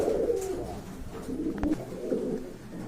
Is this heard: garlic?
no